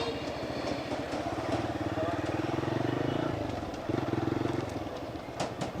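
A TVS Raider 125cc motorcycle idles steadily with a low, pulsing engine rumble while being parked on a busy street at night, traffic noise around it and a brief rev shift near the end.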